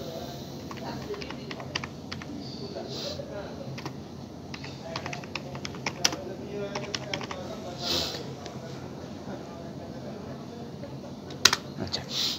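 Irregular, fairly faint clicks of a computer keyboard as a search phrase is typed, with a low room hum underneath. Scattered sharper taps stand out near the end.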